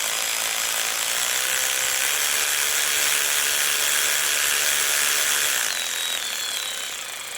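Cordless electric ratchet, a Parkside PARP 20-Li or Ryobi PRW1838X, running at a steady whir close by, holding constant for several seconds before the pitch drops and the motor spins down near the end; no talking.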